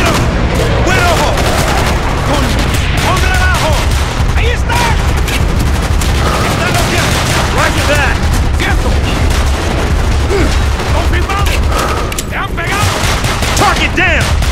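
Gunfire in the video game Call of Duty Black Ops rattles on without a break, with loud, dense bursts and booms throughout and shouted voices mixed in.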